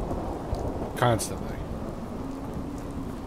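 Rain pours steadily in Fallout 4, with a close thunder crack about a second in, followed by a low rumble, while a voice speaks briefly over the downpour.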